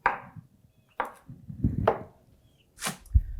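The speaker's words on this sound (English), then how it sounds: "we're going to cut this up, just chop it up into fine little pieces and throw it right in" A knife chops fresh cilantro on a board into fine pieces, about five crisp, separate chops in an uneven rhythm, close and clear with quiet pauses between.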